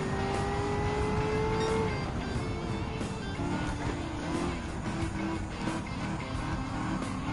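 Classic muscle cars racing in the Gran Turismo 7 video game, with a loud, continuous engine roar whose pitch drops early on, followed by a sustained rumble of racing cars close by.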